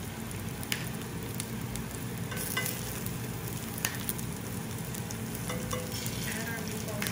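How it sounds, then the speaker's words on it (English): Pork meatballs brown in a hot pan with a steady, close sizzle and crackle, with a few soft stirring clicks and scrapes and no talking. "we're going to brown all of our meatballs"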